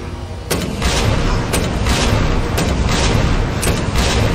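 Rapid gunfire from a Resident Evil 2 Remake firefight: loud, regularly spaced heavy shots about once a second over a dense, booming rumble, with a faint voice underneath.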